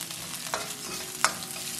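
Ginger, scallion and garlic stir-fried in a little leftover oil after beef is lifted out, a steady close sizzle broken by two sharp scraping strokes of the spatula against the wok, with no voices.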